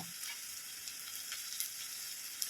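Sliced onion with four green chillies and a handful of curry leaves sizzles in a pan, a steady close frying hiss with faint crackles and no talk.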